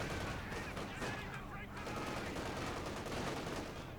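Machine gun fire and other combat sounds from Company of Heroes 2, a faint, continuous crackling wash of distant shooting with no clear separate bursts.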